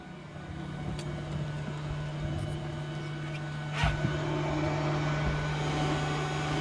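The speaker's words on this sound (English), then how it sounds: "We can go ahead and check our blower," The engine compartment blower on a MerCruiser boat runs with a steady, faint electric hum and a constant tone, plus a brief knock partway through and no talking.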